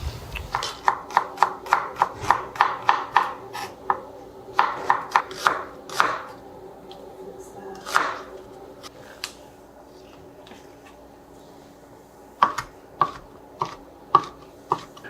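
A knife chops through fresh peppers on a cutting board in crisp, rapid taps, clustered in quick bursts with pauses between them. The sounds are close and clear against a quiet background.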